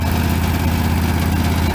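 A sawmill bandsaw's engine runs steadily at close range, a loud continuous low drone with constant vibration and no pauses or voices.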